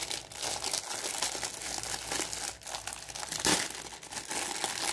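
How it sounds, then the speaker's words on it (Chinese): Close, loud crinkling and tearing of the plastic bag of Taiwanese Hei Ji Pai instant chicken-shred noodles, continuous rustling with a few sharper rips across five seconds. "我们先把这个鸡丝面的袋子先把它拆开来"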